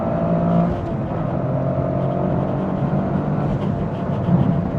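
A modified Toyota GR Corolla with a louder aftermarket exhaust revs and pulls, its engine note a steady, throaty drone with a rising surge near the end, loud and close with no talking.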